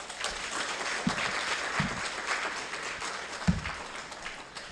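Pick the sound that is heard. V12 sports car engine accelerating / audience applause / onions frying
audience applause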